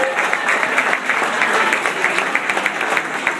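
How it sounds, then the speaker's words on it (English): A crowd at a keynote after party applauds, dense and lively clapping sustained at an even level with scattered voices murmuring beneath it. "Please help me give them a round of applause."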